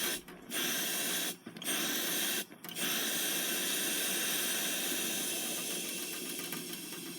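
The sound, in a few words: British Military #12 stove burner on low simmer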